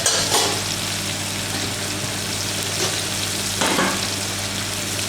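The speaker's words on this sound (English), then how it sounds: "we let the pastes and the cut up onions cook" Chopped onions and pastes fry in a pan for tomato rice, with a steady close sizzle that holds evenly throughout and two brief louder flares where the mixture is stirred.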